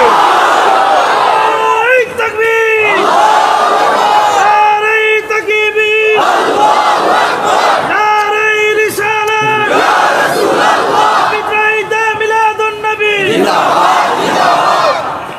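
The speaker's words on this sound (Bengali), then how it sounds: "আর দুই হাত তুলে বলে আল্লাহু আকবার স্লোগান হোক।" A large crowd at a religious gathering chanting the slogan Allahu Akbar, loud massed voices repeating the call in rhythmic waves with short gaps between rounds.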